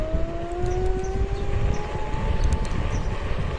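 A Dualtron Togo Plus electric scooter accelerates with a loud, steady motor whine that climbs gradually in pitch over a rough rumble of wheels and wind. No one speaks.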